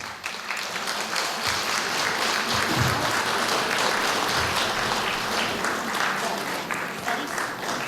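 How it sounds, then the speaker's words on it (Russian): An indoor audience breaks into sustained applause at a celebratory event honouring a ninety-year-old historian, dense even clapping from a full hall lasting several seconds, with faint voices mixed in beneath. "Давайте поздравим, похлопаем ему"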